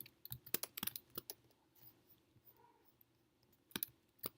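Keystrokes on a computer keyboard while typing code comments, a quick irregular run of close clicks, a pause, then another short burst.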